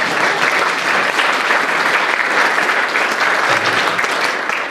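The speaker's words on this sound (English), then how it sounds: "Give yourselves a hand." An indoor audience at an evening lecture on economic inequality gives steady, dense applause, many hands clapping loudly and evenly throughout before tapering slightly at the end.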